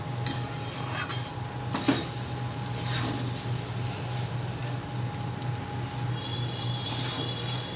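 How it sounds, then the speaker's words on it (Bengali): Govinda bhog rice being fried and stirred in a pan for vegetarian pulao, a soft continuous sizzle with occasional scraping of the spatula against the pan, fairly quiet and without talk. "চালটা আমার ভাজা ভাজা হয়ে এসছে"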